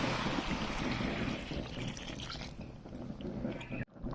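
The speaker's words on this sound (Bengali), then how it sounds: "এখানে দিয়ে দেবো জল।" Water is poured into a jackfruit and paneer curry in the pan, a close, steady gurgling pour that tapers and cuts off near the end, with no one speaking.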